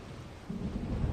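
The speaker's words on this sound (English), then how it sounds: "A strong storm caught in a magical vortex" A short, low rumble of thunder from a magical chaos storm in the video game The Longest Journey swells midway through, with a soft wash of rain hiss underneath.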